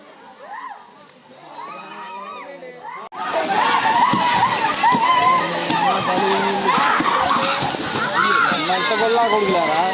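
People splashing and playing in a forest waterfall pool, with water crashing steadily and loud overlapping voices and shouts after a quieter opening few seconds.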